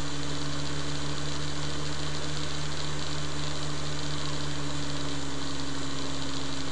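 A pulse motor hums steadily with a constant electrical whine and fine buzzing vibration, running alone at a steady speed without speeding up.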